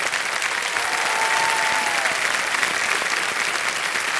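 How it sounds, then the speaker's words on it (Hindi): A studio audience on a televised quiz game show applauds, a continuous even wash of clapping with a brief tonal whistle-like sound in the middle. "तालियां बजते रहें इनके लिए।"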